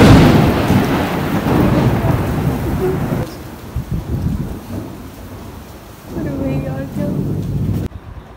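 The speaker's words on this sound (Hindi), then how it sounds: "बाहर बहुत तेज़ बारिश हो रही है" Heavy rain pours outside during a thunderstorm, loud and constant with rumbling thunder and gusts of wind buffeting the microphone, fading slightly toward the end.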